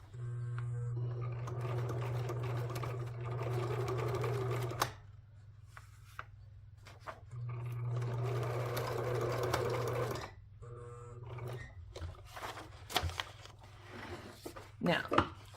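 Sewing machine stitching a wide zigzag along an edge trim on a paper junk journal cover made from a sewing pattern envelope, running in two steady bursts of motor hum and needle clatter with pauses and handling noises between.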